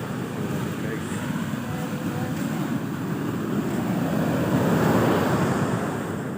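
Ocean surf rolling and crashing on a beach at Baler, Aurora, a continuous loud wash that swells toward the end, with wind buffeting the microphone.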